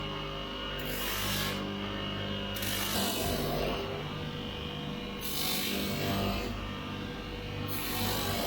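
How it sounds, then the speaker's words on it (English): A 320 grit belt sander works over an old steel car bumper being restored for rechroming, giving a loud, continuous abrasive rasping hiss that swells and dips in repeated passes. "We're going over it with a fine belt. It's probably about a 320 grit"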